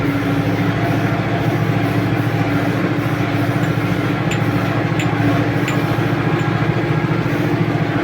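A new YuMZ tractor with about 712 engine hours is driving across a field at roughly 16 km/h during sowing and rolling work. Its engine gives a steady, close, droning rumble that runs unbroken throughout, with no talk.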